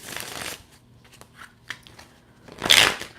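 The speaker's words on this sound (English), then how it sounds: "This deck shuffles so smoothly. We're using the Orisha Tarot." A smooth-shuffling Orisha Tarot card deck riffles in soft papery bursts, with a longer shuffle at the start, a few light taps in the middle and a louder final flurry, close and with no talking.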